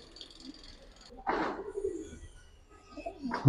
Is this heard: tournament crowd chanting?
no